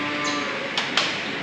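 A cow moos once, loud and near, in a milking parlour, followed by two sharp metallic knocks from the stall equipment.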